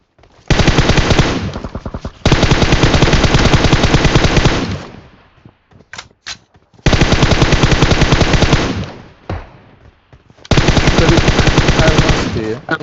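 Bursts of automatic gunfire in PUBG Mobile, several long sustained volleys separated by short pauses and a couple of isolated shots, loud and close.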